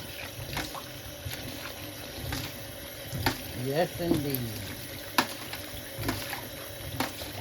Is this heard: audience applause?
no